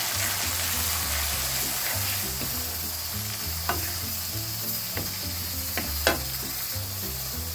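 Tomatoes and spices sizzle and fry steadily in a pot for a chicken dish, with a few sharp clinks of a stirring spoon against the pot.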